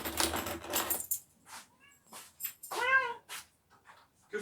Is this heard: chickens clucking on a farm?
no